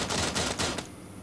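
A dense, rapid burst of automatic gunfire in the video game PUBG as the player is hit, loud and continuous before cutting off abruptly.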